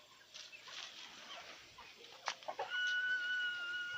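A white fighting rooster clucks in short, scattered bursts at moderate distance, with a sharper call near the middle and a steadier tonal note toward the end over faint outdoor background.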